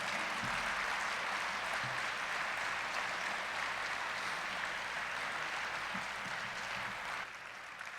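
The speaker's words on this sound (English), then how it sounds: "So let's have a round of applause for everyone in the room tonight," Sustained applause from an awards-night crowd fills the room, a steady wash of many hands clapping at moderate level before tapering off near the end.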